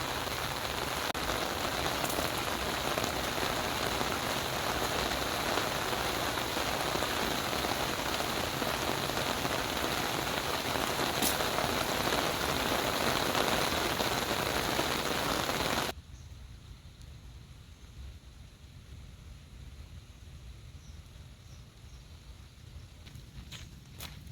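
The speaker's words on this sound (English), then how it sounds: "And the rain is back." Steady rain patters on a surface along a park trail for about sixteen seconds, then drops to a softer, quieter drizzle.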